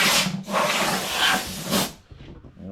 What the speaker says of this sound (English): Now I can go back and hit it with the scouring pad.